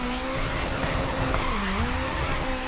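Tires squeal as a car slides through a drift in the racing game GRID Legends, a steady engine drone under a rising and falling screech that runs the whole time, close and loud, with no talking.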